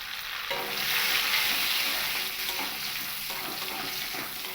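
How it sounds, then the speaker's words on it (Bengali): Bay leaf, dried chili and whole cumin frying in hot oil for a cauliflower and potato curry, a continuous bright sizzle that swells after the first half second and holds steady, with faint spoon scrapes. "খুব ভালো করে ফোড়নটাকে একটু ভেজে নেব।"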